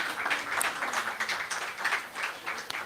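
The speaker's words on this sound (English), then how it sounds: "Round of applause, round of applause," An audience at a conversation event breaks into applause, a moderate, fairly close patter of many hands clapping throughout with uneven swells.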